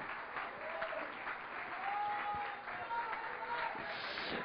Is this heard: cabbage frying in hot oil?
no